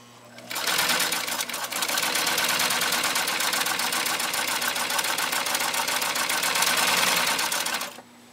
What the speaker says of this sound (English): We've got eight layers of really tough to get through upholstery material here.